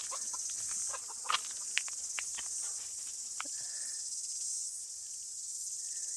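Scattered soft clucks and short calls from chickens nearby over a steady high insect drone, with brief clicks; no talking.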